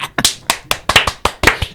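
Quick, crisp hand claps ring out in a steady rhythm, about eight in under two seconds, close and loud, at a three-day lavish wedding in Dubai.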